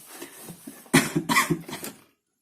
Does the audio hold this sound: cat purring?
no